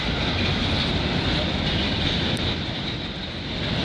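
A passing CN freight train running on a CP line in Canada makes a steady, loud broadband roar with rumbling rail noise, constant and close for the whole stretch with no voices.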